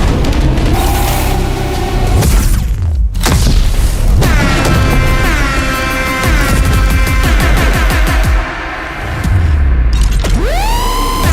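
A huge explosion blows up a graveyard in a trailer for the film Toxic, a loud booming blast followed by layered cinematic mechanical rattles, ringing tones and rising sweeps.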